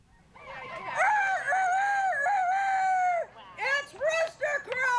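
Roosters at a rooster crowing contest give long drawn-out crows, one sustained call followed by shorter broken crows, fairly near and loud against a murmuring crowd.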